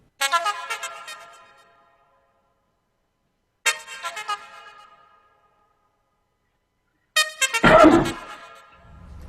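Three separate horn-like harmonic tones sound one after another with silent gaps between them, forming a spaced sequence of train horn notes; the last blast is louder and rougher with a low rumble underneath.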